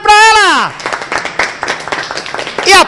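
A studio audience claps in a busy burst of overlapping hand claps close to the listener, preceded by a loud swooping sound effect and ending on another brief effect.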